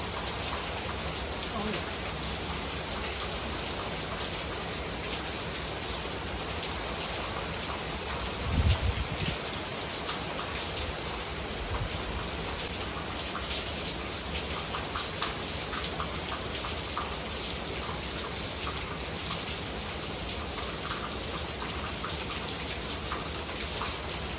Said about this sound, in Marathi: तुम्ही बघू शकता की किती जोरदार बाहेर म्हणजे हवेसकट पाऊस सुरू आहे